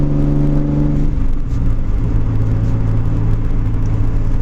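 The engine of a 1990 Nissan 240SX found sitting in a barn runs loudly nearby with a steady, droning idle and a deep rumble, and its pitch shifts slightly partway through, with no voices over it.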